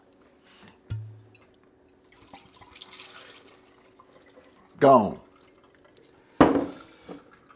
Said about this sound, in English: This is Grey Goose. Grey Goose. Pouring it out.